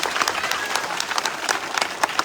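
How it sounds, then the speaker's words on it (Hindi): Crowd applause at a trophy ceremony for a school inauguration event in Madhya Pradesh: dense, lively clapping from many hands, close and loud throughout the short stretch. "इस बहन के लिए तालियां बजाइए"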